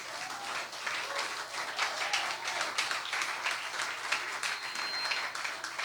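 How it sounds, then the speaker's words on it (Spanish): A church congregation gives its pastors a hearty round of applause during a service, dense, steady clapping that holds evenly throughout with no talk over it. "Así que denle un fuerte aplauso a sus pastores."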